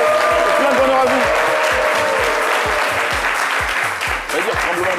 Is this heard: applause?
yes